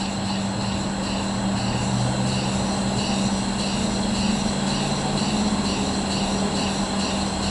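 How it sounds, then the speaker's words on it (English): A single-cylinder rotary motor runs steadily at reduced speed on about 50 psi of air, giving a constant, even mechanical drone with a strong low hum and no pauses. "Single cylinder rotary motor."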